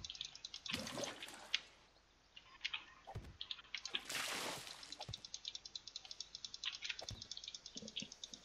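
Water drips intermittently in 7 Days to Die, faint, irregular drops with trickling and a high bird-like chirping running throughout, no voices.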